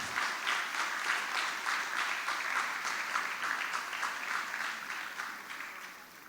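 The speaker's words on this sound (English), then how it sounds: "Let's give a big of applause to our speaker" An audience in a formal lecture hall applauds a guest lecturer on global ethics, steady dense clapping with a faint rhythmic pulse, fairly quiet and distant, tapering off slightly at the end.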